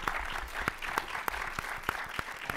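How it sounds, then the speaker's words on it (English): Audience applause at a public panel event on race, criminal justice and artistic expression, a steady sustained clapping from a crowd with sharp individual claps standing out throughout. "Let's give the organizers another hand of, a round of applause."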